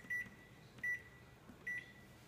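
An oven timer being set after a pie is slid in gives three short, evenly spaced electronic beeps, clear and close over a faint background hum.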